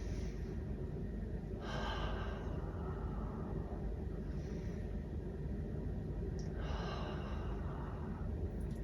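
Slow, deep breaths taken while lying on an exercise mat during a beginner core-strengthening routine, two long airy inhale-exhale swells heard close over a steady low background hum.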